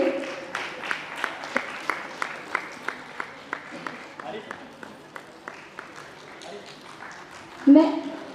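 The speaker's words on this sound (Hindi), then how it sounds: "जोरदार तालियों से सर का स्वागत करिए।" Scattered rhythmic clapping from an audience welcoming a guest, a senior theatre artist, at a cultural society's ballet event in Bhopal, with sharp individual claps over a murmur and a louder burst near the end.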